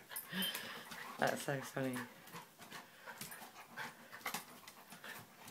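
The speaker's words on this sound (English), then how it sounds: "Very happy doggies." A Jack Russell and a wolf pant and whimper close by in quick breathy bursts, with short yips mixed in, while people talk and laugh over them.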